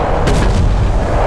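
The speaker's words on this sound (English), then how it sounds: "Have you seen my cannon? It does the bangy like this." A cannon in Call of Cthulhu: Dark Corners of the Earth fires a loud, close burst that booms briefly over dense low rumble, with a few quick cracking echoes after.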